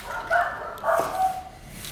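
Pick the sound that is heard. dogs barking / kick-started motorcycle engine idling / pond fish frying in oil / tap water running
dogs barking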